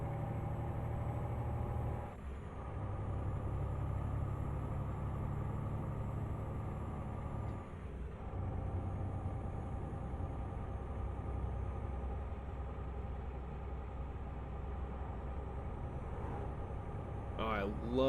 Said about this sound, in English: I love the sound of the AI trucks going by with this mod. Just the sound of the tires on the road.